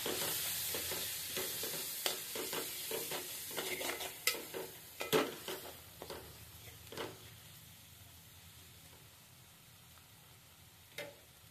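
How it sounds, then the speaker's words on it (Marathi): Spices with turmeric are stir-fried in a pan for a chicken curry, giving a soft steady sizzle with scattered scraping and stirring knocks. The knocks cluster mid-clip and thin out toward the end, with no talking. "थोडे हळद, आता परत आपण परतून घेऊयात"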